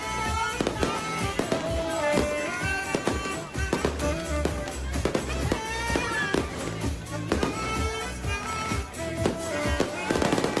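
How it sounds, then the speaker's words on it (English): Fireworks burst at an outdoor event in Cabo: rapid, repeated sharp cracks and booms run throughout, mixed with loud, steady music. "To celebrate, we have some fireworks here."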